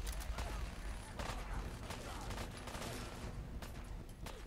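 Hunting rifle shots in a video game ring out as a quick series of sharp cracks at moderate level, with a short gap between bursts.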